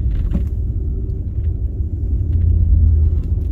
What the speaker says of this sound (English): the snow is deep enough that it's pushing through the front bumper up over the hood